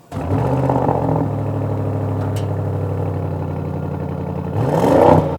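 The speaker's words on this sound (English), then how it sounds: "it just sounds so good to hear a proper petrol V8 in something like an Audi SQ7" An Audi SQ7's petrol V8 starts and rumbles with a deep, steady burble close by, then revs up sharply toward the end.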